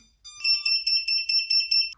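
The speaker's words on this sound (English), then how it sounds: "now the motors are going to act as buzzers" Motors of an Eachine Trashcan micro quadcopter, acting as a lost-model buzzer, let out a fast run of shrill, clean electronic beeps in a steady pulsing rhythm, close and alone.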